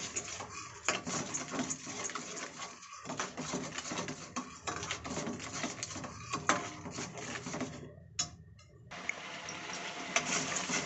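A spoon scrapes and stirs milk and sugar cooking down into palkova in a pan, a steady run of rhythmic scraping strokes heard close up, with no talking.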